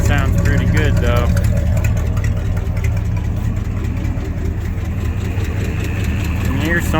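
A 1972 International Loadstar dump truck with a 392 V8 idles steadily up close, a loud, even low rumble running the whole time with no stumbling.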